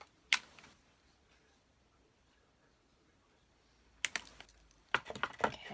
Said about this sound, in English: now I'm gonna cut these wires so they're matching